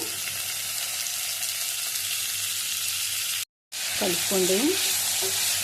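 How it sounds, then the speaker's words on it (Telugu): Ivy gourd sizzles and fries loudly in a pan, with a steady hiss close by. After a brief gap, chopped tomatoes are added and stirred in with scraping sounds over the frying. "ఇప్పుడు టమాటాలు వేసుకుందాం."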